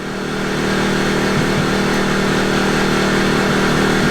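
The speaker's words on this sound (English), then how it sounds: "we're about 4 feet away from the generator" A generator running about four feet from the wall of an RV fifth wheel gives a loud, constant engine drone with a steady hum, close and unbroken, with no one talking.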